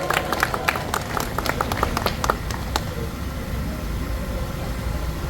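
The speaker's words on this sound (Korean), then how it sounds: "다시 한번 이태영 공동위원장님께 뜨거운 박수 보내주시기 바랍니다." A crowd claps at an outdoor rally in Yangpyeong backing the Seoul–Yangpyeong expressway. Dense, scattered claps fill the first few seconds, then thin out into steady background noise.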